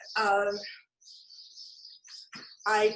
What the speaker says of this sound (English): Are you guys hearing all these birds in my yard?